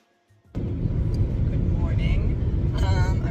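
Steady low rumble of a car on the road, heard from inside the cabin while driving to school, beginning abruptly after a near-silent moment and holding a constant level throughout.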